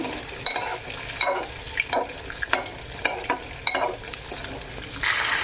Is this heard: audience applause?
no